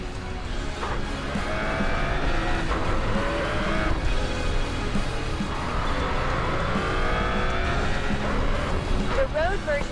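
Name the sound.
car braking while cornering, video game Racing Master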